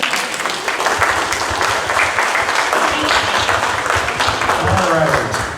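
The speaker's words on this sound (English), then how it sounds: "We give her a round of applause," Audience applause at a meeting, steady clapping from a room of people holding at a fairly loud level, with a voice coming in near the end.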